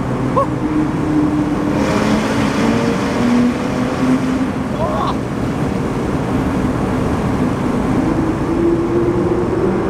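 Engine noise from a Porsche GT2 road car, heard from inside as it accelerates: a steady loud rumble with a slowly rising tone. Voices talk over it.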